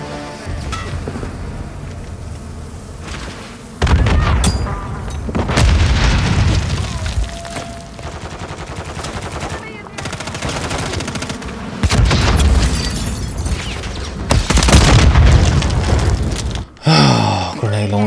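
Grenade launcher blasts boom in Call of Duty: Modern Warfare 3 multiplayer, several heavy explosions bursting over a steady bed of gunfire and game noise, loud and close with brief quiet gaps between the hits.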